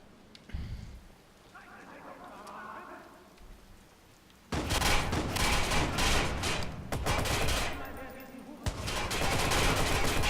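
Gunfire in the Watch Dogs video game: quiet ambience at first, then a sudden burst of loud, close shots and rapid firing that continues in dense clusters to the end.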